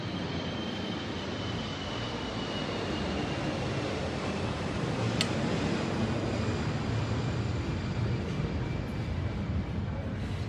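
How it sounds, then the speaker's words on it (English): An airplane flies over near an airport at a Sandals resort in Montego Bay, a broad, steady roar that holds at a fairly even level throughout with no clear rise or fade. "Oh, here comes a plane."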